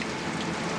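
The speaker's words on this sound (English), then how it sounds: "First rain this season!" Steady rain pattering on a surface, a dense continuous hiss of drops with no voices.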